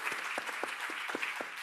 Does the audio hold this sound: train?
no